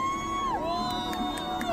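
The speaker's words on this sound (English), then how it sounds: "Large groups of Venezuelans have arrived outside the federal courthouse in Manhattan to celebrate the arrest of Nicholas Maduro" Crowd of Venezuelans cheering outside a Manhattan federal courthouse, a continuous wash of distant crowd noise and whoops under a steady, loud whistle-like tone that bends downward.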